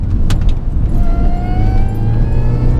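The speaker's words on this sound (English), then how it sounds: "as you blast down the B roads with that supercharger whine coming out of her" A modified 220 BHP Mini Cooper S driving hard on a country road, its supercharger whine rising steadily in pitch over a loud, continuous engine and road drone, with no talking.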